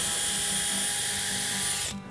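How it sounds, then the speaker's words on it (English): Close, high-pitched whine of a power drill pre-drilling holes in wood shelves, running steadily for about two seconds, then stopping abruptly. "Now it's time to pre-drill all these holes"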